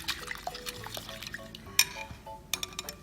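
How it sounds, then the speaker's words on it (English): A Delia Smith whisk beats an egg in a bowl, making quick light clinks and wet sloshing close by at a soft level. "it's a very efficient way to whisk an egg"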